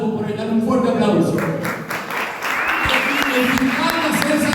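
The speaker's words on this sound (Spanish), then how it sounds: "Dale un fuerte aplauso." A crowd bursts into sustained applause, dense clapping that swells and holds, with voices and cheering mixed in.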